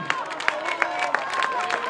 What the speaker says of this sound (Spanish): Fuerte el aplauso, tanto como a los chicos como a los chicos.